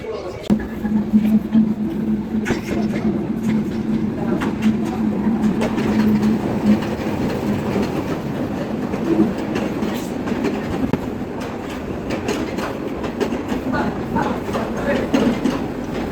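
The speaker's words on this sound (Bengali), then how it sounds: "সেই ট্রেনটা চলে আসলো" A train pulling into Rangpur railway station, with a continuous rumble and rhythmic clatter of wheels over the tracks, loud and close, while people talk nearby.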